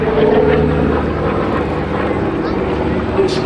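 A P-47D Thunderbolt named 'Nellie B' flies a display at Abingdon, its steady piston-engine drone holding loud and continuous throughout while someone talks over it.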